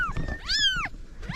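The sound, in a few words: cat meowing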